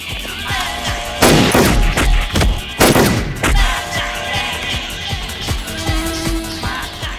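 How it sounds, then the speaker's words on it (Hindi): A missile launch in an action drama: heavy blasts and roaring bursts with a dense rumbling background, two especially loud hits in the first three seconds, then continued crackling, gunfire-like booms. "मिसाइल फायर हो चुकी"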